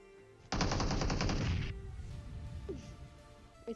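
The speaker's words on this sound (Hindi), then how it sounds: "मुझे आते हैं कुछ हल्के हल्के फायरिंग शॉट सामने की तरफ से" Rapid automatic gunfire in the video game PUBG, a dense burst of about a second of evenly spaced shots, loud and close, followed by a few faint scattered sounds.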